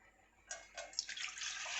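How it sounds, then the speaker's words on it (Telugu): Water is poured from a pot into a vessel indoors, a soft splashing trickle that starts after a brief pause and continues steadily, faint and close, with no talk. "వాటర్ తీసుకొని ఇందులో పోసేయాలి."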